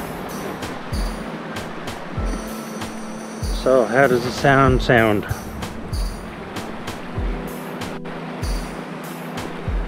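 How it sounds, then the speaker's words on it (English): Soft wash of small waves lapping and breaking on rocks nearby, a steady low surf under a man's speech. "background noise here now with the tiny little waves breaking"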